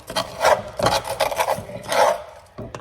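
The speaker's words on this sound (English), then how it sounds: "I just start scraping, and there's beautiful golden bagao" A spoon rasps golden crispy rice crust (bagao) off the bottom of a pot of arroz y habichuelas, in several loud, close scraping strokes with short pauses between them, and no one talks.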